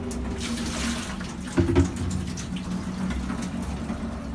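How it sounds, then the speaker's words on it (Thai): Water poured out of an eSpring water filter housing during a filter change, a brief splashing burst over a steady faint running-water background, close by. "ทีนี้นี้มันจะมีน้ำอยู่ ตรงนี้ก็เทน้ำทิ้งไปก่อน"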